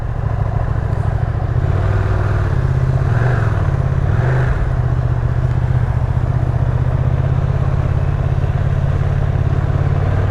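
Ducati Streetfighter V2 motorcycle ridden on a cold, wet road, its engine a loud, steady low drone throughout with slight rises in pitch, close and continuous with no talking.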